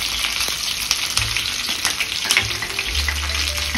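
Mustard seeds and cumin sizzling and popping in hot oil for tempering an amla pickle, a steady loud crackling fry with occasional sharper pops, close up and without talk.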